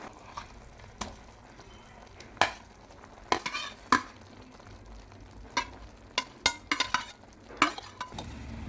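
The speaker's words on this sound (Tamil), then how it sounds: "உருளைக்கிழங்கை சேர்த்து நல்லா இப்படி மசிச்சு விட்டுக்கலாம்." A spoon scrapes and taps in a pan as boiled potatoes are stirred and mashed with onions for poori potato masala, with irregular clicks and squishes over a faint background sizzle.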